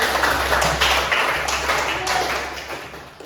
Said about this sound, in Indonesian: tepuk tangan untuk Ilfon